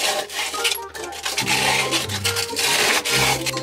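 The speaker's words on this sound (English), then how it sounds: "Then, sandpaper it a little bit." Sandpaper rubs back and forth over a plastic sink pipe in a steady, close, raspy scraping that fills the short stretch.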